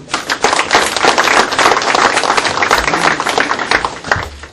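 A room full of people at an election campaign committee meeting applauds steadily, a dense, loud burst of clapping that carries on without a break.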